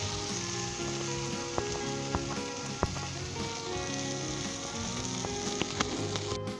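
Shredded chicken for lachha murgh fries in oil with a steady, close sizzle, punctuated by sharp clicks of a spatula tapping the pan.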